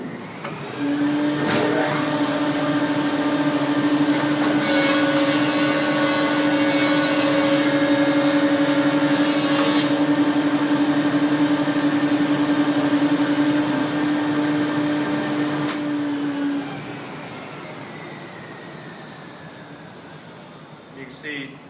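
A wood thickness planer runs alongside its dust collector in a shop, a steady loud mechanical roar with a brief harsher burst as stock feeds through midway, then winding down near the end.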